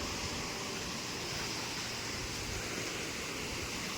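Steady broadband surf from sea waves at Kondura beach on the Indian coast, a constant rushing wash with no distinct breaks, moderately faint and without voices.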